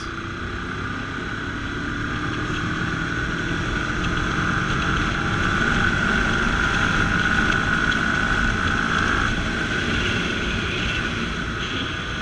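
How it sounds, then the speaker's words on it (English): A Kawasaki ER6N motorcycle in fifth gear at about 3000 RPM pulls forward under throttle, with a steady engine drone that rises gently in pitch over wind rush before settling. "So I'm actually in 5th gear now in 3000 RPM, and I'll just switch the throttle and we'll see how it goes."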